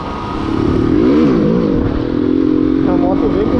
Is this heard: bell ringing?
no